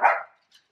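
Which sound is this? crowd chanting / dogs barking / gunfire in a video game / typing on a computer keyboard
dogs barking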